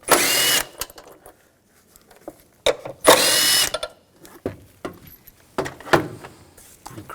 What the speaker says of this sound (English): Take these two bolts out, use a 10mm socket.